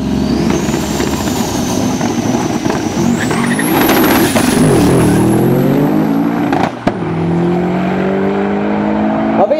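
Two Audi S2 Coupe cars, one with a V8 biturbo and one with a V6 biturbo, run a drag race, loud engines roaring with turbo whine rising and falling as they pass, then a brief drop before the noise resumes.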